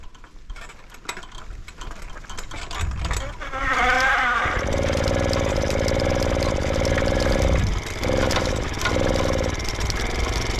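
A homemade AWD diesel and petrol bike's diesel engine clatters and cranks, then catches and runs with a loud steady drone, its pitch dipping briefly twice under the throttle.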